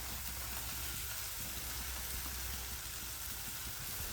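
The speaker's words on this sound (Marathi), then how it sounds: "टाकल्यानंतर भाजी आपण छान परतून घेऊया यामध्ये टाकूया चवीनुसार मीठ" Chighor leafy greens with spices cooking in an open pan, giving a faint, steady hiss and crackle that continues evenly throughout, quiet and close with no voices.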